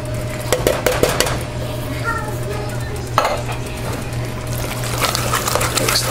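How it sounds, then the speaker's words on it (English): Canned chili beans and black beans tumble from the cans into a pot of taco soup, giving soft wet plops and a metal clink or two, with steady kitchen hum underneath. "Chili beans, the black beans."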